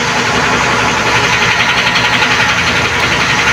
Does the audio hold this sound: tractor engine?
yes